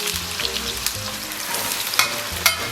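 Chopped scallion, ginger and garlic hit hot oil in a wok and sizzle continuously up close, with light crackles and scraping stirs.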